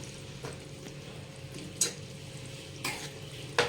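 Ginger, garlic and mango pickle being stirred together with oil in a bowl, a few soft scraping and clinking spoon strokes in a quiet setting.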